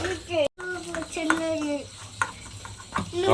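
A mother stirs and mixes food in a pot or dish in a home kitchen, with scraping and clinking strokes close by while a child and an adult talk over it.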